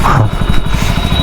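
A BMW G 310 GS touring motorcycle engine runs steadily at close range, a low rumbling throb with a faint mechanical clatter and a thin steady whine above it.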